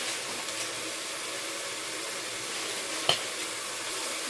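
Chili powder and turmeric being stirred in a hot frying pan, giving a steady close sizzle throughout with one brief sharp scrape of the spoon against the pan.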